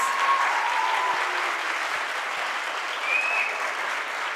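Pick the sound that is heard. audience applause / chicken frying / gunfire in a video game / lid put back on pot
audience applause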